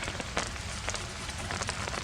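Rain falls at a winter campsite, a steady hiss of drops on surfaces with scattered sharper taps standing out, heard alone with no talking.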